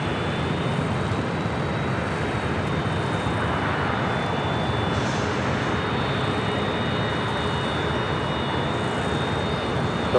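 An Air New Zealand Boeing 777-300 arrives at LAX, its steady broad jet roar filling the air continuously at moderate loudness with a faint high engine whine.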